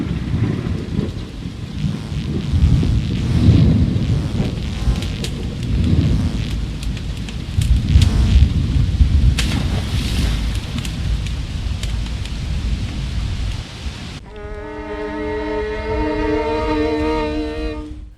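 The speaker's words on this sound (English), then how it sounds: "when suddenly a storm" A storm at sea: heavy rain hissing steadily with deep rolling thunder building and breaking in loud surges, ending with a few seconds of sustained tonal drone.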